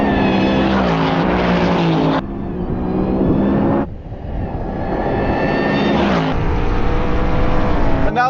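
A BMW M4 Competition and a Ford Mustang Dark Horse racing, engines roaring loudly at full throttle with rising pitch through gear changes and abrupt shifts, no talking over it.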